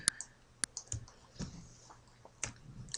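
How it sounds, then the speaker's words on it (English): Computer mouse clicks tick out irregularly, sharp and close, while someone draws a hand-drawn avatar in GIMP software; a few single clicks are spaced apart amid quiet background. "So just keep clicking."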